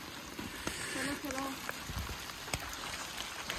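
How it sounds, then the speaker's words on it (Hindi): Heavy rain falling in dense forest on a trek to Anusuya Mata temple in Mandal Valley, Chopta, a steady close hiss with scattered drips, and a voice speaks briefly under it. "क्योंकि काफ़ी बारिश तेज़ हो चुकी है"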